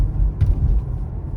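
Toyota C-HR GR Sport 2024 hybrid pulling away under acceleration, a low rumbling engine and road drone heard from inside the cabin, steady and fairly loud with a brief rise partway through.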